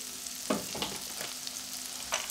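Eggs frying in a pan, a steady close sizzle with soft scrapes and stirs at a few points, no voices.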